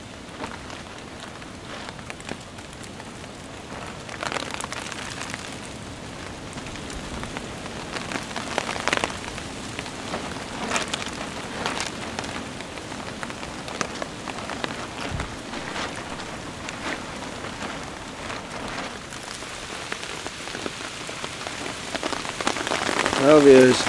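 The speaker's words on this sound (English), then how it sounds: "Just the sound of rain on top" Steady rain patters on a taut hammock tarp overhead in a woodland, a dense crackling hiss with occasional heavier drips, continuing unbroken.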